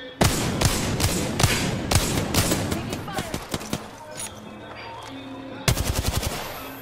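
Rapid automatic gunfire in a shooter video game, with dense bursts of sharp shots for several seconds, a lull of scattered pops, then another fast close burst; voices speak over the shooting.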